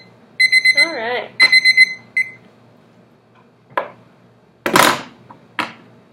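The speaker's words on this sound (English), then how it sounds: "Do you remember what you were going to do when the alarm rang?" An alarm clock rings in a room, sounding in short repeated bursts of bright electronic beeps with a warbling tone, then stopping. Scattered knocks and brief rustling sounds follow in the quiet that comes after.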